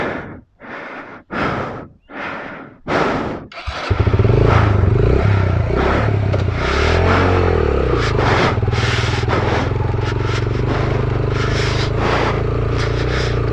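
A dirt bike labours up a steep, rough off-road forest climb, its engine droning loud and steady after several heavy breaths and gasps at the start.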